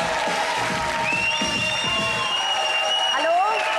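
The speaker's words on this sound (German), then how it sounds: "begrüßen Sie mit mir Patricia und Chris Wagner." Studio audience at a German daytime talk show applauding and cheering to welcome a married couple onto the stage, a dense, steady wash of clapping with a few whoops and whistles rising near the end.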